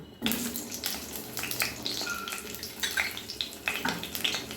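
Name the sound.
potatoes frying in mustard oil in a wok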